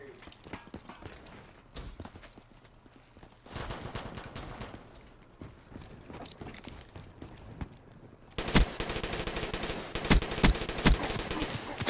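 A Galil rifle fires in Black Ops 3 team deathmatch, with sporadic shots early on building into sustained rapid automatic bursts toward the end, loud and close with quieter distant gunfire between.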